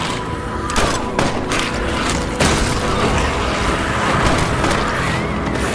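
Dense, loud gunfire and booming blasts crackle almost without pause against zombies in a fantasy-kingdom film battle, with heavy impacts and mechanical clatter throughout.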